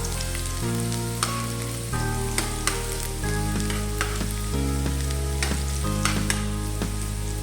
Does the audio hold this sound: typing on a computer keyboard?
no